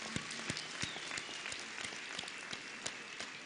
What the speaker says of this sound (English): I think we can give that a round of applause.